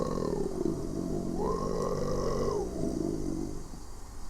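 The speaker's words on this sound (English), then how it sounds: "That's a ding for a burp." A single long, low burp from a podcast host, rising and holding steady for a couple of seconds before trailing off, fairly loud and close with no talk over it.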